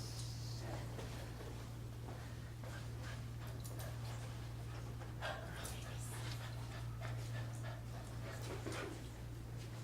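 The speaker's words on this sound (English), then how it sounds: "You know dogs vocalize." A dog pants steadily and heavily throughout, with occasional soft whimpers, close and continuous over a low steady hum.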